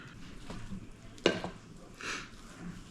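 Potato salad stirred with sauce in a full bowl, heard as quiet wet scraping and one brief louder clink of the utensil against the bowl, close and soft.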